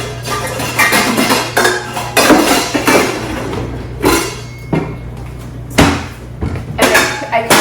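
Knocks and clatters of a bowl being taken out and set down in a home kitchen during cookie baking, several sharp close impacts spread across the moment with soft rustling between, and a steady low hum underneath.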